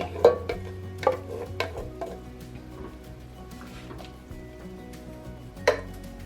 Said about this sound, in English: mix that all together